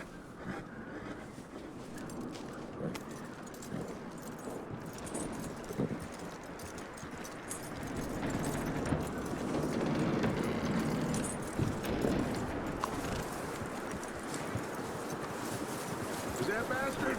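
A horse's hooves clip-clop at a steady walking rhythm in the Red Dead Redemption 2 video game, close and moderate in loudness, mixed with wind and outdoor ambience and swelling slightly midway.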